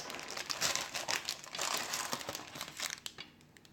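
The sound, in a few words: peeling paper off a baked sponge cake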